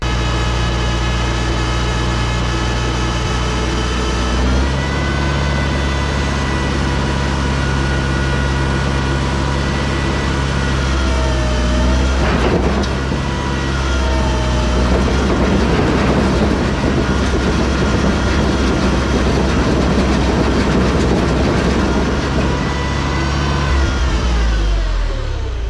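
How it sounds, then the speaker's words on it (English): Tractor engine running steadily while powering a John Deere 1209 haybine, a loud continuous mechanical drone with clattering machinery noise that grows rougher midway, close and sustained throughout with no talk. "we're gonna back the tractor up and we're just gonna see, if this thing will run"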